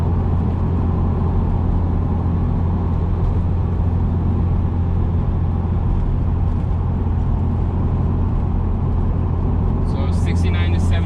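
Steady, loud interior road and tire roar inside a 2017 Subaru WRX Limited SportTech cruising at 60 mph after a transmission mount change, a constant low rumble filling the whole stretch with a brief faint chirp near the end.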